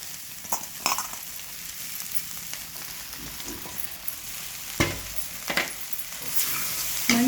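Washed poha (flattened rice) cooking in a pan gives a steady sizzle, with scattered scraping stirs and louder clatters near the end, close and moderately loud with no talking.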